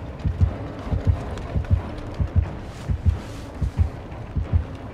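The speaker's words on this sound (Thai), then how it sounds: "เอาเสียงหัวใจมา" A steady, loud double-thump heartbeat from the Dead by Daylight horror game, around seven or eight evenly spaced low beats pulsing over a faint hiss, with no talking.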